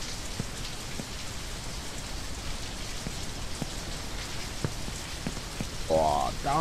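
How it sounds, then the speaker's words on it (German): Steady rain falls throughout in the video game Only Up, a continuous patter with scattered distinct drops, while a brief tonal game sound rises near the end. "Es regnet!"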